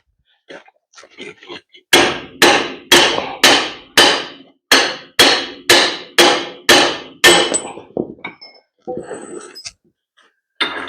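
Heavy hammer blows on a truck frame while fitting radius iron bushings, about a dozen loud, evenly spaced metallic strikes near the mic, with lighter taps before and after.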